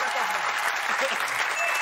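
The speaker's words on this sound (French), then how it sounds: "Applaudissements." Studio audience applause on a French TV show: dense, sustained clapping from a crowd fills the whole span, with voices faintly mixed in underneath.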